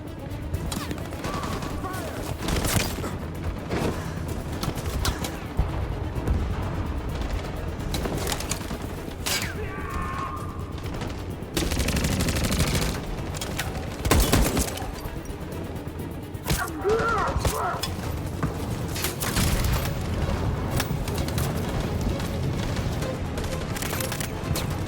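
Bursts of gunfire in Detroit: Become Human, heavy volleys and scattered shots repeating across a loud, busy battle with voices shouting through it.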